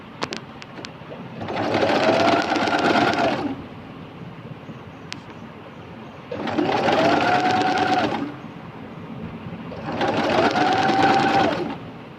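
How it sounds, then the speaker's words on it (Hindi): A Singer sewing machine fitted with a narrow rolled hem foot stitches a picot hem in three steady whirring bursts of about two seconds each, with short quiet pauses between them. "तो इस तरह से मैं सारी पिको कर लेती हूँ और फिर आपको दिखाती हूँ कि कैसे लगती है।"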